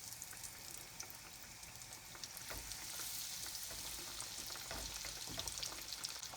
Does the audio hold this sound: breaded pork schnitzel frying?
yes